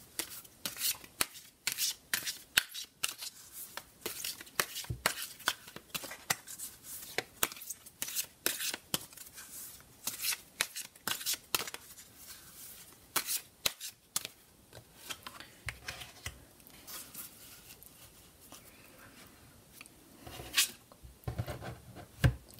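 Oracle card deck shuffled by hand, a long run of quick papery riffles and slides in irregular bursts, close and fairly quiet, with no talk.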